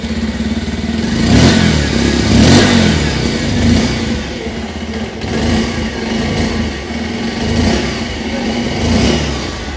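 A 2024 Bajaj Pulsar 125 Neon motorcycle engine runs close by with a throaty exhaust, rising in a few short revs above a rumbling idle.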